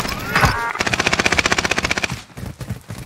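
Rapid PPSh submachine gun fire in the shooter Rebirth, a loud, dense burst of evenly spaced shots lasting over a second, with scattered single shots around it and no talking.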